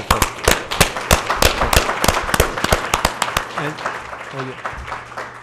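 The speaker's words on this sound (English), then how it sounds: "let's just please give a round of applause to our local speakers again" An audience at a town hall event applauds, sharp crisp claps from a smallish crowd that thin out and fade over several seconds, with a voice briefly heard near the end.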